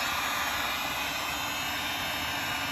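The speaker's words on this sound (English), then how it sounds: "So here is the heat gun that we have. It's a Wagner brand" A Wagner heat gun set to high gives off a steady, loud, even rushing roar of blown air with a faint high whine, held unbroken throughout.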